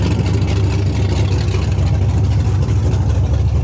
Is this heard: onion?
no